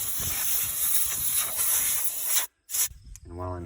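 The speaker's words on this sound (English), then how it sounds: "Again, air to clean up the rust and make sure the threads are all cleaned out." Compressed air blasting rust off a brake caliper bracket on a Mk4 Volkswagen Jetta TDI: a loud, steady close hiss that cuts out briefly, then short bursts, with a voice at the very end.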